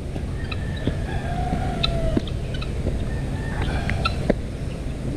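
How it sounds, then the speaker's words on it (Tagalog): Turkeys at a resort in San Pablo, Laguna, gobble and cluck in short, close bursts over a busy outdoor background, with scattered bird calls and faint chatter. "May mga pabo."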